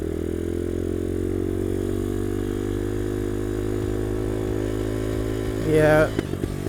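A dirt bike engine idles and runs steadily up close in traffic, with a rough mid-range drone throughout and a brief louder rev near the end; a voice speaks over it.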